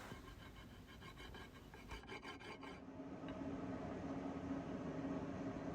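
Steady rasping scrape of a stone scraper across black locust wood, continuous and close, with no voices.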